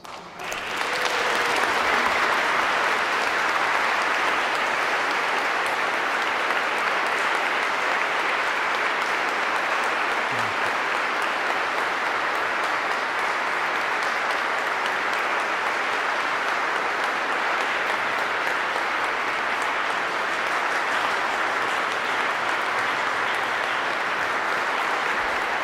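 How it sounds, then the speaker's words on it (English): Sustained audience applause fills a church ceremony for the profession of perpetual vows, a dense, steady wash of clapping that holds at an even loudness for roughly twenty-five seconds without talk. "Maybe a round of applause."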